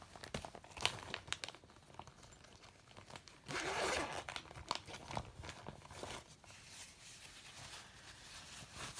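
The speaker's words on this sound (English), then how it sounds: "Let's see if a paper towel would help." Paper towel handled to blot running gel-stick ink, with soft crinkles, rustles and scrunches coming in quick irregular bursts, one louder crumpling patch partway through, all close and fairly quiet with no talking.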